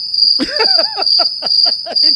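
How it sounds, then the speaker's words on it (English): Crickets chirping in a steady, close series of short pulses over a constant high whine, played as a comedic sound effect with no talking. "Crickets. That's all I got."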